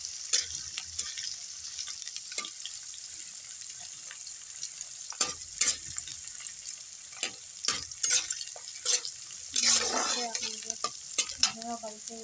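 Capsicum frying in a pan gives a steady crackling sizzle, broken by repeated scraping and clacking strokes of a stirring utensil. A louder burst of hissing comes near the end.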